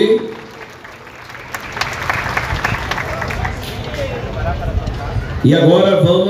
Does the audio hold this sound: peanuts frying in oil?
no